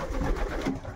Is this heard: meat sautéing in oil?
no